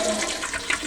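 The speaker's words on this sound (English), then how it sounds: "I heard the toilet flush and he came out." A toilet flushing nearby, a loud rushing gush of water that fills the brief moment, heard alone with no talking.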